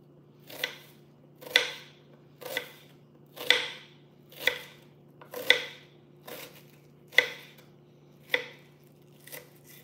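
A knife chopping vegetables for a Greek salad on a cutting board, about ten evenly spaced crisp cuts roughly one per second, close and clear with a faint steady hum behind, no talking.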